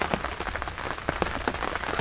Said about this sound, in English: Been raining all night, November the 10th.